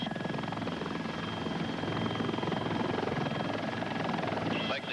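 A helicopter hovering under pilot control, its rotor and engine making a steady, continuous throbbing drone with a faint high whine, heard from on board, with a voice speaking over it.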